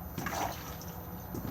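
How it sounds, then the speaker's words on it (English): Toilet flushing inside a 2016 Elddis Majestic 285 caravan: a short, close rush of water lasting about a second, with a faint trickle afterwards and no talk. "push to flush"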